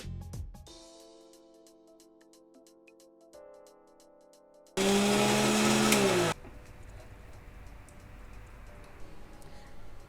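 A kitchen blender grinds ginger, green chili and garlic into a paste, a loud steady whirring roar for about two seconds, set between quieter clicks and ticking.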